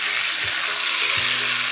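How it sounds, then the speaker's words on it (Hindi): Onion, ginger-garlic paste and chilli sizzle in hot oil for a tadka on daal mash, a steady hissing fry with a couple of soft stirring knocks underneath. "आ हा हा, क्या तड़के का साउंड है।"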